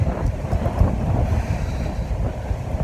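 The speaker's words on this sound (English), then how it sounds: "woo, the wind, baby" Strong wind buffeting a microphone outdoors in Paris, a loud, continuous low rumble with gusty fluctuations and no voices.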